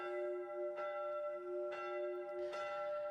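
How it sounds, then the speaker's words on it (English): Chapel bells toll in a cold winter town, three resonant strikes about a second apart, each ringing out over a sustained, humming bell tone with no voices. "Chapel bells toll in the winter air."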